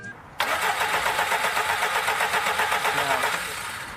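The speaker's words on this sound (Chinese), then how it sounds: "车子只是一直在哼唧，就是无法成功启动。" A modified old scrapped car, rebuilt for mud racing, cranks steadily for about three seconds with a rapid, loud starter whir. The engine never catches and the cranking stops.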